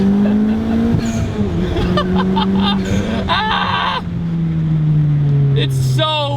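Honda Civic Type R fitted with anti-lag, its engine droning loud and steady from start to finish with sustained pitch changes, sharp crackling bursts from the anti-lag, and a voice talking over it.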